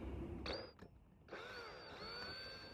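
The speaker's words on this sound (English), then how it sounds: "Okay, let's start drilling this screw out." A power drill bores out a screw on the interior trim of a Mercedes R107 SL, with a brief whirring burst followed by a longer sustained drilling whine, close up.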